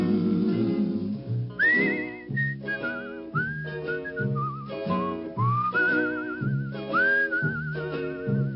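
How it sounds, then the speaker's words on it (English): A melodic tune whistled clearly over a soft instrumental backing, with sustained, wavering notes rising and falling. "It's a whistling tune for walking in the night."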